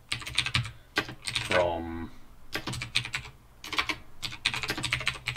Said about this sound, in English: if we start to type a description, this is a Lothric sword